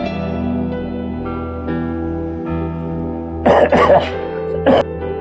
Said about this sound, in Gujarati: હવે બિલકુલ ઉધરસનો અવાજ આવો ના જોઈએ આ ઘરમાં